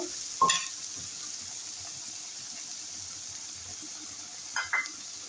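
Ground spice paste hisses quietly in a pan for a yogurt katla fish curry with curry leaves, a faint, steady sizzle broken by two brief scrapes or clatters near the start and end.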